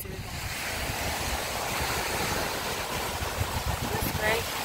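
Ocean surf on the coast of northern Maine, a steady broadband wash of breaking waves close to the microphone, mixed with wind buffeting.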